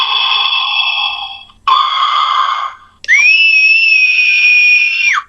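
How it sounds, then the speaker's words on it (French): A Halloween sound-effect gadget plays an electronic child's scream. It comes in three loud, shrill bursts, the last a long sustained wail, heard close with no talking. "ça c'est le cri d'un enfant"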